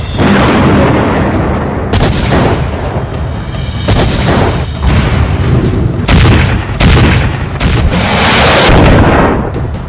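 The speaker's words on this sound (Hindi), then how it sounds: "एयर डिफेंस सिस्टम एक्टिव होता है और फिर एक ही वार में पुतिन की एक दो नहीं, कई मिसाइलों को आसमान में ही खत्म कर देते हैं" Air defense system intercepting several incoming missiles in the sky during the Russia-Ukraine war, with loud, continuous booming blasts and repeated sharp explosive bursts rolling over each other for the whole stretch, no speech.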